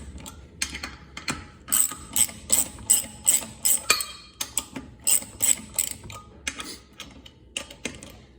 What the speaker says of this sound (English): continue loosening the wheels, or the lug nuts off the wheel